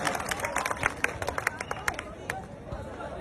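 A crowd claps to welcome a speaker at a gathering in Bharatpur, Rajasthan, with scattered, uneven claps over murmuring voices and background chatter, moderately close.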